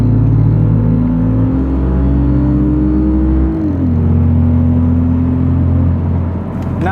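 A Lexus IS250 with a four-cylinder engine drives on the road, its steady interior engine drone rising in pitch, dipping through a gear change, then settling into an even cruising hum with a low road rumble underneath.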